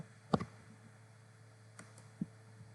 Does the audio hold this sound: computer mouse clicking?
yes